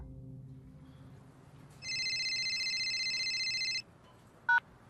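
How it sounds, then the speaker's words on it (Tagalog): A mobile phone rings with a loud, steady electronic ringtone held for about two seconds, then stops, followed by a brief sharp beep; quiet low background hum precedes it and no one speaks. "Miyerkules habang break time sa grocery may tumawag sa cellphone ko"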